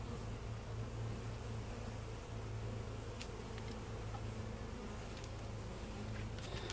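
Honeybees in a weak colony beehive give off a steady, dense low buzz throughout, with a few brief higher whines from individual bees flying close, fairly faint and with no talking.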